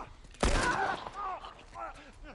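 A gun fires in The Last of Us video game: one loud, sharp blast close up, followed by a player's voice talking.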